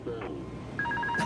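A telephone rings with beeping electronic tones inside a flight simulator game's Airbus cockpit, short repeated pulses heard faintly under steady background noise.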